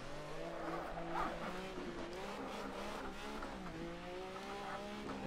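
A Ferrari 312T in the Assetto Corsa racing sim wails at high revs as it drifts, its engine tone rising and falling steadily while a light tyre squeal runs underneath, heard alone without talk.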